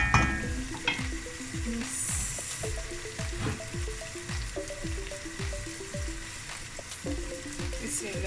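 Minced meat frying in a pan with onions already cooked translucent, a big batch meal for 40 people, with a steady loud sizzle and rhythmic scraping stirs repeating about once a second.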